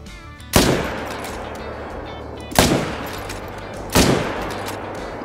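Three sharp, loud rifle shots in the Call of the Wild hunting game, fired at a whitetail buck, each a sudden crack followed by a lingering echoing tail, spaced roughly one and a half to two seconds apart.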